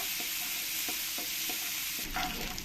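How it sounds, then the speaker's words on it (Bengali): Sliced onions frying in oil in a pan for a raw banana kofta curry, a steady close sizzle with soft periodic stirring scrapes and a louder burst of frying near the end. "পেঁয়াজ কাটাগুলো দিয়েও একটু লাল লাল করে পেঁয়াজগুলোকে ভেজে নেব"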